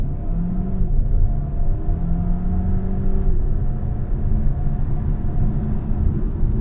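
A 2024 Dodge Hornet R/T is floored at full throttle with PowerShot boost. Its engine gives a loud, close, continuous rumbling roar, with a low tone climbing steadily as it accelerates and no talk over it.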